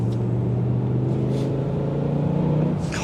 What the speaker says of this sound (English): Oh, it's so good to be back in a car with this engine.